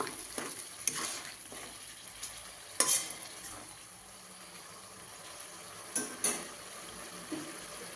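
Fried khoira fish being stirred into simmering curry in a pan, with soft bubbling and occasional louder scrapes and clinks of the spoon against the pot, quiet and close with no talk.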